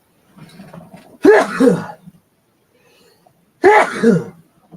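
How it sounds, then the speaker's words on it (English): Two forceful sneezes a couple of seconds apart, close and loud, the first preceded by a brief quiet inhale and faint breathy sounds. "I got to sneeze."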